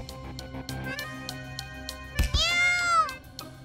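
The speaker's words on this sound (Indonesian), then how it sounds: "Kucing" An indoor cat gives a clear, drawn-out meow that rises and falls, heard close and alone after a few faint taps and a brief thump.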